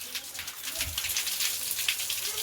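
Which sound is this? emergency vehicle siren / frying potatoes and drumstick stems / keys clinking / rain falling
rain falling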